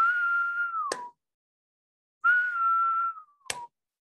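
Whistled imitation of a periodical cicada call, two long steady tones each ending in a falling slide, with a sharp single clap marking the female's wing flick near the end of each, close and alone.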